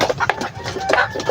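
Chickens on a farm at feeding time, a few short clucks in quick succession at close range over a low background.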